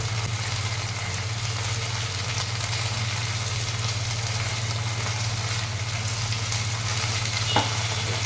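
Garlic, tomato and ginger paste frying in a pan, a constant dense sizzle with a low steady hum underneath, no voices.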